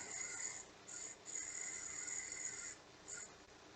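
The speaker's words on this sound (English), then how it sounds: "So this is the time where you want to sand this section of the finial here." Sandpaper pressed against a spinning wooden Christmas ornament finial on a lathe, giving a faint hissing rasp in several bursts of varying length, with a quiet motor hum underneath.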